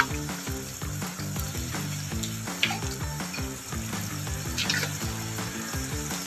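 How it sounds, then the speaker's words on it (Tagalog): Del Monte spaghetti sauce hits a hot pan and sizzles steadily, with stirring and scraping under a close, continuous fry, while background music plays along. "Tapos guys, ilalagay na natin ang spaghetti sauce."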